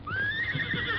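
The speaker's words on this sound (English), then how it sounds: "Me hear horse." A horse whinnies in a radio drama sound effect: one loud, rising, drawn-out neigh close by, lasting about a second and heard alone.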